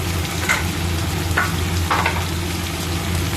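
Flat beans frying in a pan with oil, a steady sizzle broken by three short scraping stirs of a spatula, close and moderately loud.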